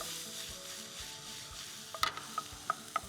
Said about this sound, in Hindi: So in the olive oil, let's add some garlic.